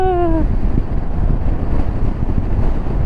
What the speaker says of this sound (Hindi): यहाँ परमानेंटली हवा चलती रहती है